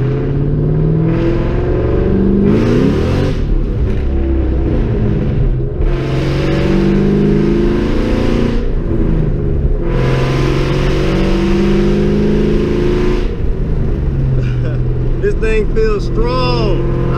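Tuned Ford Mustang Cobra driving and accelerating, a loud steady engine drone with rising revs and gear changes heard from inside the car, continuous throughout.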